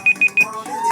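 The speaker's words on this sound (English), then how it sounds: "Oh, that's the timer?" A kitchen timer alarm sounds at a barbecue, giving three loud, evenly spaced beeps and then a fourth after a short gap, close and shrill.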